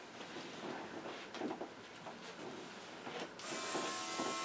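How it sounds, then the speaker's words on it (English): A small airbrush used on a fluid-art flower painting gives a faint scratchy rustle, then bursts into a loud, steady hiss of spraying air for the final second. "I'm going to take my little airbrush"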